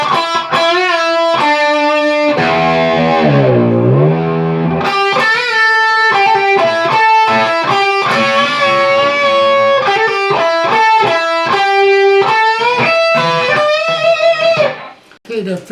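Heavily distorted electric guitar plays a solo lick: sustained, bending lead notes with slides and vibrato, loud and continuous for about fifteen seconds before cutting off briefly near the end.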